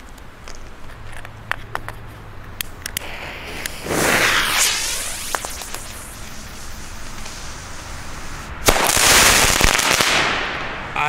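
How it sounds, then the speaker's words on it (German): A Crackling Beam firework shell from Pyroland bursts outdoors into crackling stars. A whooshing burst gives way to dense fizzing crackle, followed by a second loud crackling wave, with scattered sharp pops throughout. "es sind die Crackling-Sterne, die dieses Teil hier auseinandertreiben."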